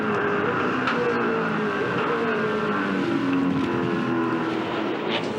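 V8 Supercars race cars run off the track onto grass, their engines droning steadily at a distance through a continuous, fairly quiet roar with no clear talk.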